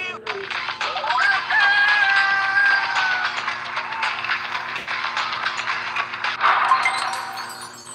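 A rooster crows in a mobile game ad, a drawn-out cock-a-doodle-doo over faint electronic hum and a background tone, followed by a shorter second crow near the end.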